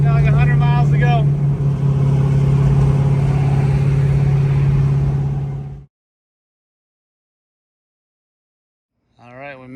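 A drag-racing car cruising on the highway in 4th gear at about 3,000 RPM makes a loud, steady engine drone for several seconds, then cuts to silence before a brief voice at the end.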